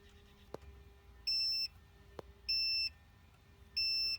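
A multimeter set to continuity, probing the ignition points of a vintage points-type ignition system, gives three steady, clear beeps about a second apart, with a couple of sharp clicks from the probes earlier.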